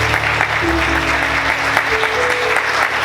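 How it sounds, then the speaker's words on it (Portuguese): Church congregation clapping loudly and continuously during a Sunday morning service, a thick sustained wash of applause with faint voices and music tones underneath. "Você pode aplaudir Jesus bem forte?"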